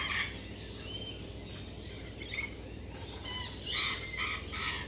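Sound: small parrots squawking

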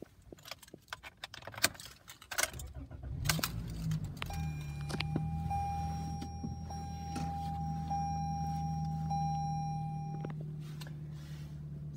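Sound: starting a 2022 Toyota Corolla engine with the key

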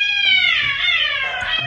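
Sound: cat meowing

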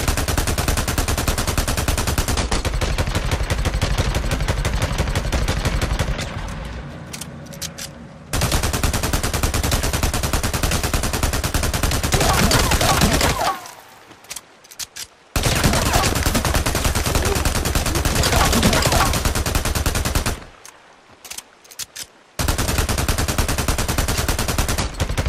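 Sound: rapid sidearm gunfire in Days Gone video game

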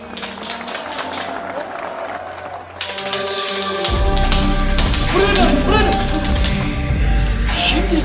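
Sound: audience applause

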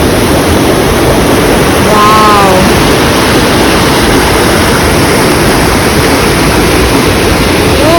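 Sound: waterfall rushing water

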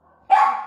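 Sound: dog barking

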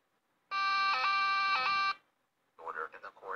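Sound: police car siren

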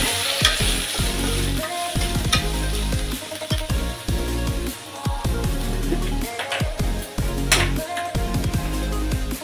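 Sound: diced paneer half-frying in a pan

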